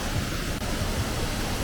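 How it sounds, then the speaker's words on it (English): A waterfall on a Welsh four-waterfall hiking trail roars as a steady, loud wash of broadband rushing water, continuous and close, with no voices. "We've arrived at the first waterfall."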